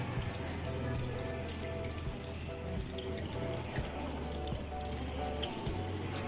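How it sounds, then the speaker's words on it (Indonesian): Tap water runs steadily into a sink as hands are rinsed under the flow during a handwashing demonstration, a continuous splashing trickle with faint dripping, heard fairly close and alone. "Bilas menggunakan air mengalir."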